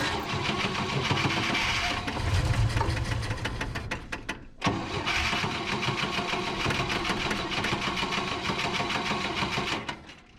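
A 1963 GMC service truck engine cranks on ether, the starter churning in a fast rhythmic chatter that stops briefly then resumes, close and loud without catching.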